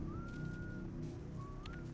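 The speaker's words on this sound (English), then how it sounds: "Why can I hear an outlaw whistling?" Faint, thin whistling from an outlaw in the Atomfall video game, two drawn-out rising tones separated by a short gap over a low ambient hum.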